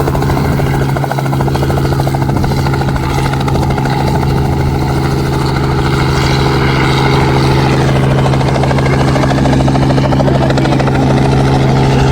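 A loud, steady helicopter drone with constant rotor thump dominates throughout, close by and unbroken, at an apple festival in Brighton.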